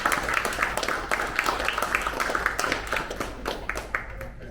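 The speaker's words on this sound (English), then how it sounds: "round of applause for them" A small group claps for fruit harvesters in Tahiti, scattered handclaps pattering steadily at close range while voices chatter underneath, continuing for several seconds.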